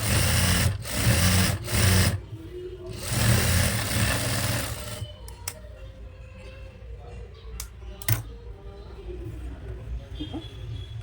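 A sewing machine stitches a frock nighty in fast rattling bursts for about five seconds, followed by quieter handling clicks while someone talks.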